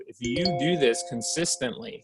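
A phone notification chime rings out with sustained bell-like tones while a person keeps talking over it, close and clear.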